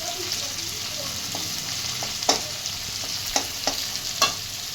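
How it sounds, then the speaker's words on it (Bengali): Onions frying in a pan alongside vegetables for a potato, pointed gourd and chickpea curry, a steady close sizzle broken by a few sharp utensil knocks and scrapes as they are turned, with no speech. "একটু পেঁয়াজ দিলাম, পেঁয়াজটা ভাজবো বলে"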